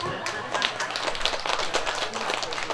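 Dense audience clapping rings out at an outdoor pumba street performance at a chrysanthemum festival in Hampyeong, a busy, fairly close patter of many hands with voices talking through it.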